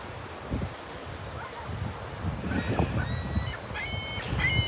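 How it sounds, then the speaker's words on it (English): A seagull on the beach at Delnor-Wiggins gives a few thin, nasal calls in the background over wind and rustling, with louder cries near the end. "It's a noisy seagull in the background"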